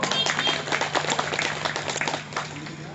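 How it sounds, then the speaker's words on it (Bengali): An audience claps together at a political workshop in Purba Medinipur, a brief burst of steady, moderately loud applause from a crowd indoors. "তার জন্য একবার আমি হাততালি দিতে বলবো"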